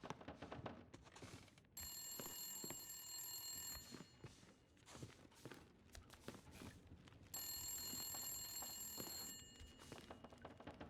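A telephone rings inside a horror video game, two long electronic trill bursts separated by a pause, moderately loud over faint background game noise, no talking.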